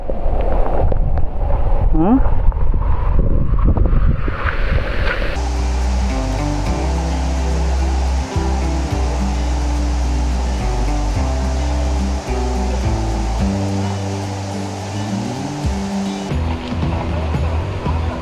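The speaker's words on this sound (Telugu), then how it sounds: "ఫుల్ గాలి, భయంకరమైన వర్షం." Strong gusting wind and heavy rain in the Nallamala forest near Mallemkonda, a loud, continuous roar with buffeting that stays steady throughout, and voices are heard briefly near the start.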